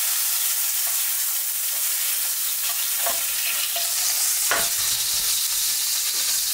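Mushrooms sizzle steadily in a frying pan for spaghetti with mushrooms and asparagus, with a continuous bright hiss and a few soft scraping stirs of a utensil through the pan, no voices.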